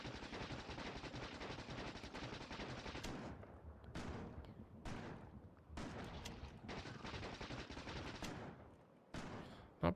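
Rapid gunfire from the video game Factorio rattles almost nonstop in dense automatic bursts, with brief gaps between volleys and no voices.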